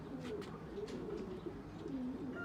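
Pigeons cooing softly at a loft, low rolling coos rising and falling over a faint, steady background murmur, fairly quiet and without speech.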